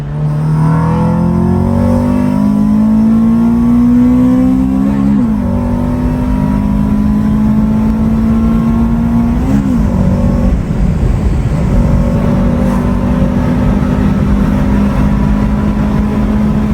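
A fast car fitted with a B16 Type R engine accelerates hard, its engine note climbing steadily through the gears with brief dips at each shift, loud and close throughout with no talking.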